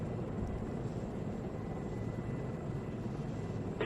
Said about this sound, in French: Et ils sont là les hélicoptères.